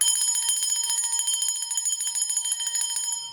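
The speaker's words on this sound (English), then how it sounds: "I always ring the bell to scatter any opposing forces" A small handheld bell rung continuously and fast, its bright metallic ringing dense and loud throughout with no talk.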